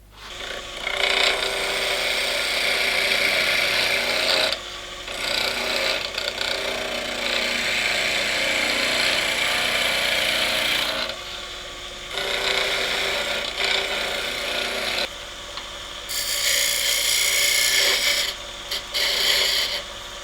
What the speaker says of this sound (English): I'm going to turn down the stem and put a tenon on each end